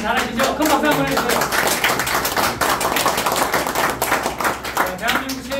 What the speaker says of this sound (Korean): 큰 박수 한번 해주세요